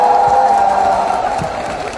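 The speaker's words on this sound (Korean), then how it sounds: "여러분 박수 한번 주세요." A concert audience at a Seoul concert applauds and cheers in a dense, loud, continuous crowd roar that fills the whole moment, with a steady held tone running underneath.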